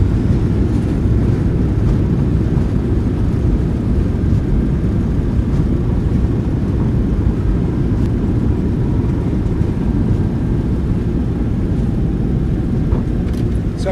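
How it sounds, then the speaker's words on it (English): A Delta 737-800 in a flight simulator rolls out on landing at Salt Lake City with its thrust reversers deployed, making a continuous deep rumbling roar that holds steady as the aircraft decelerates. "Goes down gently, reversers are out,"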